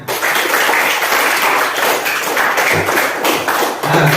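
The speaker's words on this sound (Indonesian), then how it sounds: "Berikan tepuk tangan" Schoolchildren in an elementary school classroom clap together in a dense, steady burst of applause that lasts several seconds, close and loud, with a few thumps mixed in.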